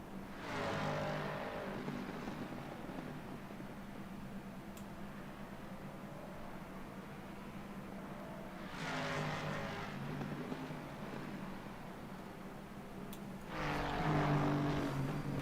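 Race car engines roar past in Assetto Corsa Competizione during the 12 Hours of Watkins, including a Mustang, with rising and falling engine drones as cars sweep by in three louder waves over a continuous background hum.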